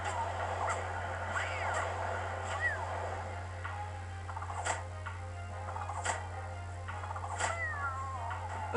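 Kitten monsters in the video game Dofus 2.11 let out several short, rising meows during a turn-based fight, scattered among ticking clicks and soft game effects over a steady low hum.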